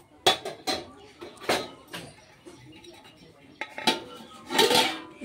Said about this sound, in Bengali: ভাজাটা ঢেকে দিলাম।